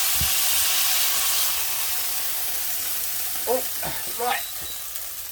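Beef sears in a hot pan with a loud, bright sizzle that eases slightly over time, broken by a few short spoken words and a couple of scraping stirs near the end.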